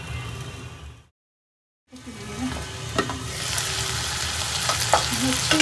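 Vegetables simmering in a pot for Chakma-style boiled vegetables with nappi are stirred, giving a sizzling, scraping bustle; a brief dropout cuts the sound near the start before the stirring resumes and continues steadily, close and moderately loud.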